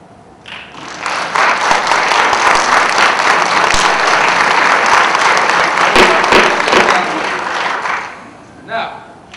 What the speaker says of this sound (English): I would like you to clap loudly